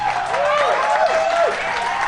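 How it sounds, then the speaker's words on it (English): Huge crowd of fans at a live show in Las Vegas, a dense steady wash of cheering and applause with whoops rising over it, loud and continuous throughout. "there is a huge throng of fans here. Listen to them."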